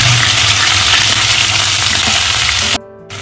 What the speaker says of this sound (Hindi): अब हमारा ऑयल गर्म हो चुका है, अब हम इसमें 1 बड़ा चम्मच अदरक लहसुन का पेस्ट डालेंगे।